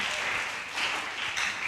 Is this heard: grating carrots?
no